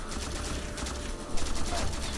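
Dense, continuous gunfire from a weapon in Halo 4, a steady barrage of rapid bursts that swells briefly toward the end, with no voices over it.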